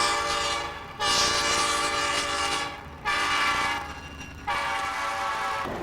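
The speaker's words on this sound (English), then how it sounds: "this is a typical locomotive like you'd see hauling freight" A diesel freight locomotive rumbles past close by, sounding three long loud blasts of its horn over a steady engine and rail noise.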